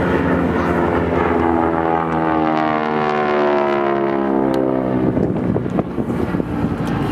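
A North American T6 Harvard aircraft flying a display at Temora Aviation Museum, its loud radial engine and propeller roar sweeping past with a falling pitch, steady and powerful, with no speech.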